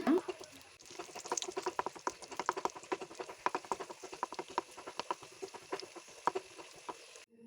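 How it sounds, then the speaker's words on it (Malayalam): Cashews and raisins crackle and pop in hot oil, a dense run of sharp little spits at a fairly steady pace, close and moderately loud, with no voices. "അപ്പോഴേക്ക് നമുക്ക് നമ്മുടെ അണ്ടിപ്പരിപ്പ് മുന്തിരിയൊക്കെ നന്നായി ഒന്ന് വറുത്തെടുക്കാം"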